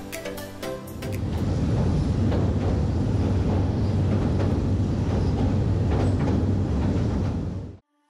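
At Sylhet railway station, a train gives off a steady, loud broadband rumble and rattle close by, running for several seconds before cutting off abruptly, with no talk.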